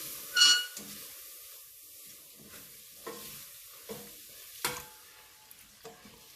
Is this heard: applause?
no